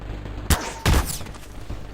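An auto turret fires in the Garry's Mod video game, giving two short, loud blasts about a third of a second apart, followed by quieter noise.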